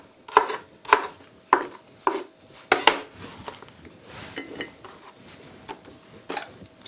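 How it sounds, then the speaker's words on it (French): A knife slices through a bell pepper laid skin-side down on a cutting board, making six or seven crisp, sharp chops at a steady pace, then softer scraping and tapping. The sounds are close and fairly quiet, with no voice. "facile de le découper la peau collée sur la planche, la lame qui attaque directement la chair"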